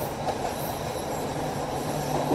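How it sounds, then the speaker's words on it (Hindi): A Sri Lankan Railways passenger train on the Colombo to Kandy line pulls into a station, with a loud, steady rumble of carriages on the rails, a clattering undertone and faint wheel squeal throughout, and no voices. "और अब ये स्टेशन पर रुक रही है ट्रेन,"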